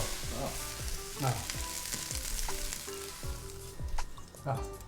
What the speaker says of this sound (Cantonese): 炒到差唔多熟㗎啦